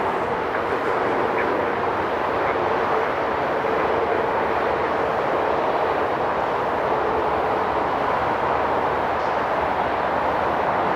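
An Air Canada Rouge airliner at snowy Toronto airport produces a steady, broad jet roar, loud and unbroken for the whole stretch, with no voices over it.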